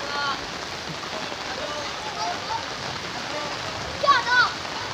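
Strong floodwater rushing in knee-deep water in eastern Cirebon, Indonesia, where runoff from forest, plantations and villages meets, gives a steady broadband wash with splashy texture throughout, while a voice talks faintly underneath.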